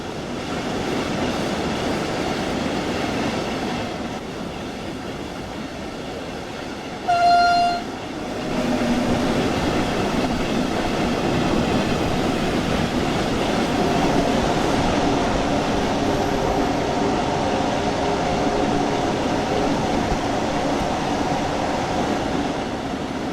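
A German S-Bahn commuter train in Dresden, simulated in Train Sim World 5, rumbles steadily at close range; a brief horn-like toot stands out near the start before the continuous rolling drone carries on alone.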